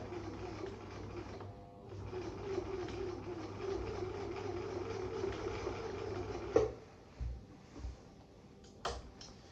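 Husqvarna 6440 sewing machine running steadily with a mechanical hum, sewing dense fabric with an 18 needle, then stopping with a few brief clunks and knocks near the end.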